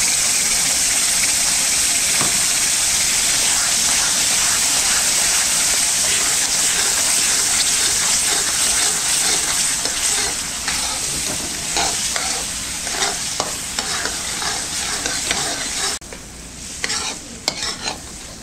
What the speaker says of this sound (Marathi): हा जो रस घालायचा असतो ना तो मी या स्टेजला घालतो, रवा भाजत असताना